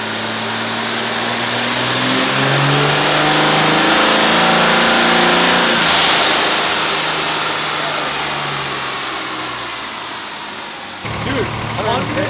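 A record-setting 4,157-horsepower Cummins diesel truck roars on a dyno at the Diesels In The Mountains event. The engine climbs to a loud, sustained high-rpm howl, then winds down, with a sharp shift in noise near the end.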